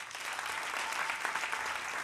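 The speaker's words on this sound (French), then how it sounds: "Vous êtes au festival Africa Stand Up, 7e édition et ça s'applaudit." Audience at an African stand-up comedy festival show clapping in a brief, dense burst of applause, steady and fairly distant, with no talk over it.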